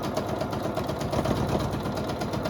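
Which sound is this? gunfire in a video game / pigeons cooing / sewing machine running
sewing machine running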